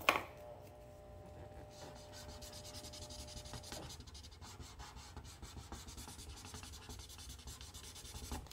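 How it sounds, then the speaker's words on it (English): A whiteboard eraser rubs permanent marker off a stainless steel appliance surface, giving a steady, close, soft scrubbing friction that continues evenly without talk. "And then erase with your whiteboard eraser."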